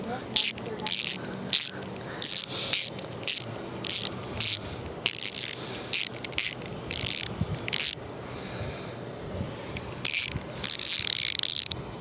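Ratchet tightening bolts on a Zero electric motorcycle during maintenance, a rapid clicking pawl in short repeated bursts with brief pauses between strokes, close and loud.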